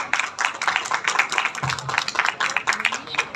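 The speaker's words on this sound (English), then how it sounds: "A big round of applause" Applause from the audience at a press meet for a new Zee5 show, a dense patter of many hands that keeps going steadily, heard fairly close and at moderate loudness.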